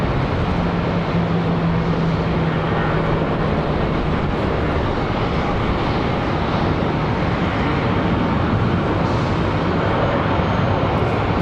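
Airliner departing Charlotte Douglas airport, a broad, steady jet roar held at a constant level with no voices.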